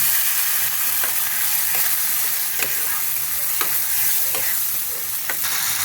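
A paste of mint, coriander and green chilli fries in oil in a pan, a constant loud sizzle broken by regular scraping stirs of a spatula, close up with no speech.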